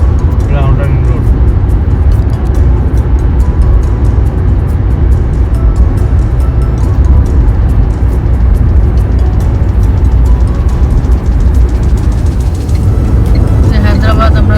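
Car cruising along Hyderabad's Outer Ring Road on an India road trip, a steady close engine and road rumble throughout with a person talking over it.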